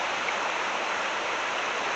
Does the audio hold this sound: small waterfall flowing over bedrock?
yes